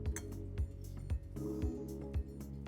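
A spoon mixes lentils with garlic powder in a bowl, making a regular series of light clinks and taps against the dish about twice a second, close and fairly quiet.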